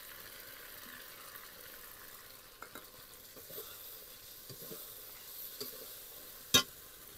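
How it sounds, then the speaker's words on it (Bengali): Pointed gourd cooking in a pan as whisked sour yogurt goes in, giving a faint, steady low sizzle with scattered soft utensil clicks and one sharper tap near the end. "এবার দিয়ে দিচ্ছি ফেটিয়ে রাখা টক দই।"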